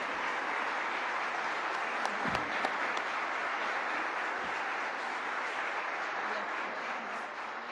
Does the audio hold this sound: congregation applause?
yes